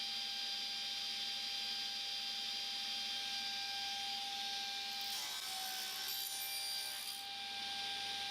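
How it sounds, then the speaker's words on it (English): A power saw cuts US maple splines on a spline jig for a blackwood box, a loud steady whine that grows rougher and denser for a couple of seconds as the blade bites the wood. "We're going to set up the spline jig and Andrew can cut the splines."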